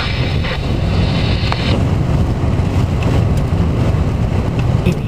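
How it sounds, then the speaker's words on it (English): Strong westerly wind gusts during a hailstorm in Norfolk, Nebraska, roaring loudly across the microphone in a constant buffeting rush, with no talk. "we're picking up some really healthy wind gusts from the west there"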